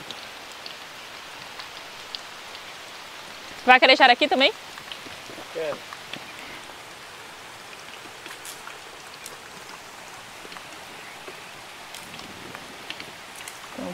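Heavy rain in the Amazon during a riverside fishing trip, a constant dense patter throughout, with people talking briefly over it and a short clatter midway.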